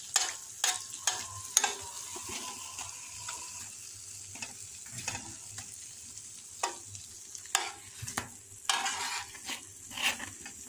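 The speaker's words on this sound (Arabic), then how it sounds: "هانتوما قد ما نطيحوا عليهم الزيت بحال هكا كنرشوهم بالزيت" Breakfast beignet pastries fry in hot oil with a continuous close sizzle, punctuated by sharp clicks and scrapes of stirring utensils against the pan.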